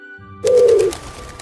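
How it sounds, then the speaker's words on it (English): A pigeon coos once in a single low, throaty burst, close and clear, following a few seconds of quiet, as part of a children's zoo animal-sounds learning game. "Pigeon."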